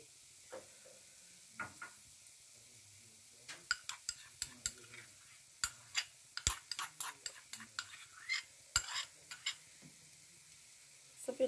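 A chicken liver filling cooks in a pan while a utensil stirs it gently. Sharp scattered clinks and scrapes against the pan come close and irregular over a faint low sizzle, with no talking.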